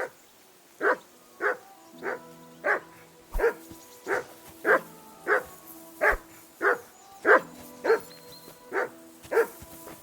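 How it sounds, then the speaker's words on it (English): Dog barking in the video game Kingdom Come Deliverance 2, a steady run of about fourteen loud, close barks at an even rhythm over a quiet outdoor background. "Call off that damn dog!"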